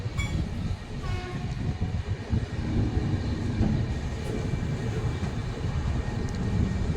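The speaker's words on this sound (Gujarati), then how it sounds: "6:21 આપણી ટ્રેન ઉપડી ગઈ છે" The 19255 Surat Mahuva Express departs Dhasa station on a cloudy, misty morning, its horn sounding over a continuous loud rumble and rhythmic clatter of the rolling coaches, heard from on board.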